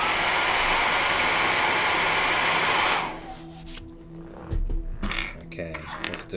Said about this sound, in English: Hair dryer warning, guys.